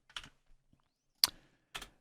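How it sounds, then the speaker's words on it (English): Keystrokes on a computer keyboard, a few separate taps and clicks spread across two seconds with gaps between them, close and fairly quiet with no talking. "I'm just typing them in like that."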